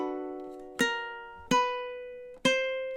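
Three slow, evenly spaced plucked ukulele chords ring out alone and close, each decaying before the next, playing the second measure of the Curb Your Enthusiasm theme at a slow pace.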